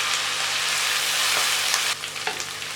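Ginger garlic paste fries in hot oil in a karahi for chicken, giving a dense, loud, continuous sizzle up close, with stirring scrapes and a slight drop in intensity partway through.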